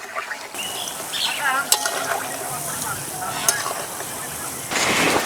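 Mango fritters (bora) sizzle steadily in hot oil, with occasional stirring clatter and a few brief sharp clicks, fairly close and moderately loud, and the sizzle swells louder near the end.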